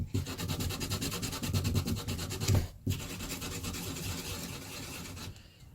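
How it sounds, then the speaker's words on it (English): Sandpaper rubs rapidly against the face of a rawhide mallet in a close, rhythmic rasping scrub, pausing briefly before the steady sanding continues. "I'm using the sandpaper and holding it in the middle and spinning"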